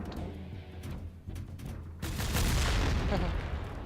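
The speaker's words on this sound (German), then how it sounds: "Schöne Explosion." An explosion in the Metal Gear Solid 3 video game erupts suddenly as a heavy loud boom and rumble, following a quieter stretch of game ambience, with crackling debris trailing off.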